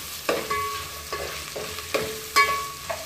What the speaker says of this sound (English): so I'm going to put some onions in it and let it brown